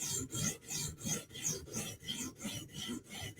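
A Spyderco Sage knife in REX 121 steel is stroked across a sharpening stone in a steady rhythm of about ten close, raspy scrapes, each pass a loud gritty swipe with a brief pause between.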